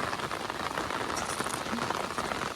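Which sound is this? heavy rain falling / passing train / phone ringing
heavy rain falling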